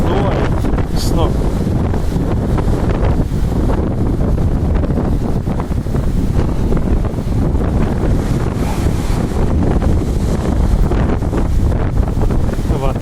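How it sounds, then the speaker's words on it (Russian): Strong wind roars across the Black Sea shore at Koktebel in late February, a loud, steady buffeting rumble battering the microphone throughout, with surf from the cold sea mixed into the blustery noise. "Ветер так уже сдувает, представляете, сдувает с ног."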